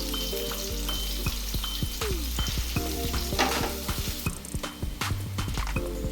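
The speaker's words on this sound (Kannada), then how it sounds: "ಈಗ ಈರುಳ್ಳಿ ಹಾಕಿ ಫ್ರೈ ಮಾಡ್ತಾ ಇದ್ದೇನೆ." Onions fry in coconut oil for a chicken chilli, a steady close sizzle broken by frequent clicks and scrapes of a spoon stirring in the pan.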